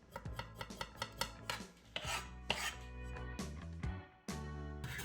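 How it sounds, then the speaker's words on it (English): Knife spine scraping the peel off fresh ginger root on a kitchen counter: a run of short, rough rasping strokes in uneven rhythm, close and fairly quiet, with a few sharper taps against the board and no talking. "Take the back of your knife and just scrape the peel off."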